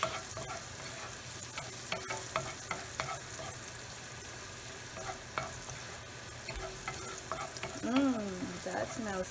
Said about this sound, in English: You just saute real quick